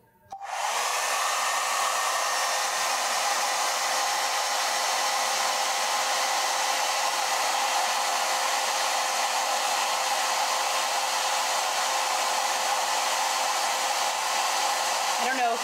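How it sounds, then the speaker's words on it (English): Hair dryer on high heat, used to shrink bands onto cosmetics containers, switches on and then blows as a steady, loud, unbroken whoosh with a faint whine. It runs alone without talking. "You guys can hear me over the hair dryer"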